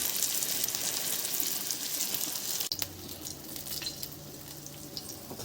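Surmai fish coated in rava fries in hot oil with a steady, close sizzle that drops slightly quieter about halfway through, and nobody speaks.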